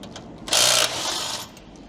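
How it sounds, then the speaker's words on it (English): A ratchet loosens the recovery side bolts on a Ford Ranger Super Duty while a bull bar is fitted. A brief, loud burst of rapid clicking is followed by a softer stretch of turning. "So now we're going to remove the recovery side bolts."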